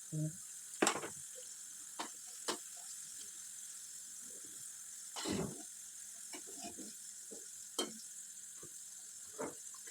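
Snacks refrying in hot oil give off a faint, steady sizzle and hiss, broken by a few soft clunks and scrapes of a utensil in the pan.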